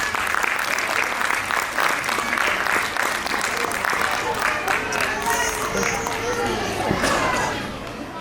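Loud, sustained applause from an audience welcoming a guest at a ceremony, dense clapping and crowd noise throughout, fading slightly at the end, with voices mixed in.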